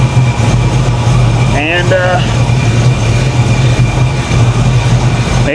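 A 1987 Monte Carlo SS engine idles steadily after a water pump repair, a loud, even low hum with a faint belt whine, while a voice briefly speaks over it.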